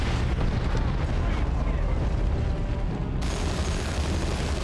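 Explosives detonating in the Warhammer 40K: Dawn of War 2 Chaos Rising video game, a dense, loud rumbling roar of blasts that fills the whole clip, with a continuous heavy booming wash and battle noise layered underneath.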